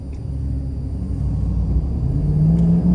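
A pickup truck accelerates with a deep, swelling engine rumble that grows louder and rises slightly in pitch over a few seconds, heard up close with no voices.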